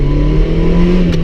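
A cold drift car engine runs loudly up close, a deep throbbing drone held at raised revs with a faint rattle on top.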